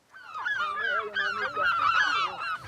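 Herring gulls calling near their nest on an island breeding sanctuary, a continuous chorus of loud, close, overlapping honking cries with wavering pitch and no talk.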